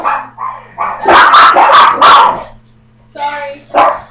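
Little dogs bark in a quick burst of several close, loud yaps, with a short pause and then a couple more barks, indoors and close by.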